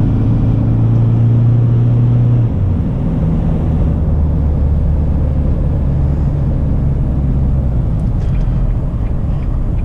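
Isuzu D-Max Arctic Trucks pickup driving on, a steady loud engine and road rumble throughout with a low droning tone early on, no talk.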